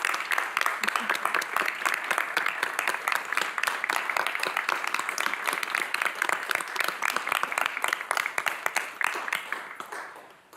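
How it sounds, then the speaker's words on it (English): An audience at a Knox County commission meeting applauds junior commissioners with sustained, crisp clapping for about ten seconds, individual claps distinct, before tapering off at the end. "Please join me in applauding our future commissioners."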